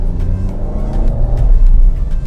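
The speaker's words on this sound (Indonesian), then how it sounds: "Saat nginjek pedal gas pertama, mesin langsung berputar dengan maksimal" A Suzuki Ertiga Hybrid pulls away from a green light at a city crossing, its engine note rising loud and close in a continuous revving whir with no talk.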